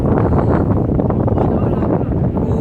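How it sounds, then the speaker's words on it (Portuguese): Strong wind buffets the microphone high on top of the Eiffel Tower, a loud, continuous roaring rumble that surges and dips slightly, with no clear voices over it. "Essa parte aqui tá ventando mais, é mais apavorante."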